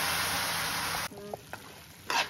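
Roasted grated coconut cooking in a pan for mewa pak, with a loud steady sizzle for the first second, then quieter scattered stirring clicks and a brief final scrape as sugar syrup goes in.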